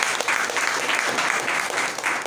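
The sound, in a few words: congregation applauding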